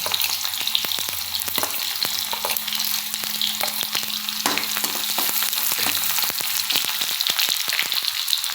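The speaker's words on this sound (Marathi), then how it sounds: "आता तेल गरम झाले की त्यामध्ये लसूण टाकून घेऊया" Crushed garlic and green chillies fry in hot oil, giving a steady, close sizzle with a bright crackling hiss and scattered pops throughout, with no talk.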